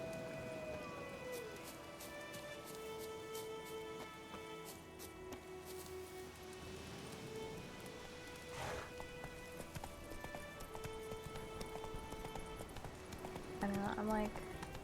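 Roach the horse galloping in The Witcher video game, rhythmic hoof clip-clop running under game music and tonal effects, with voices speaking over it.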